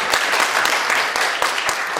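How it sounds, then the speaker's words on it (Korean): Church congregation clapping for a pastor's wife as she stands, a dense burst of many hands, near and fairly loud, in a short, even stretch. "네, 일어나고 우리 박수로"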